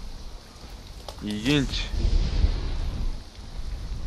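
Rain falls in the video game Conan Exiles, a steady hiss with a low rumble swelling partway through, while someone speaks briefly over it.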